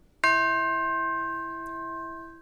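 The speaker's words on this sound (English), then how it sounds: "Striking spot on the chime should be on this crown right here, not on the tube." A single mallet strike on the crown of a chime tube rings out as a bright metallic tone with many sustained overtones, decaying slowly over a couple of seconds, close and clear with no talking.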